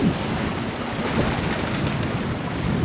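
Strong wind in 20 to 22 knots and a rough, choppy sea around a sailboat crossing from Morocco to Spain, heard as a loud, steady rush of wind and breaking water with no talk.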